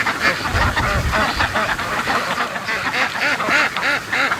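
A flock of ducks returns home, quacking loudly and continuously up close, the many overlapping calls forming a dense chorus with some wind noise underneath.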